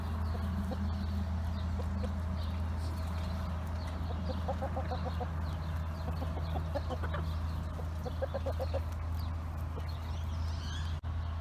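Short bursts of rooster clucking recur in small clusters over a steady low hum, fairly close and moderately loud.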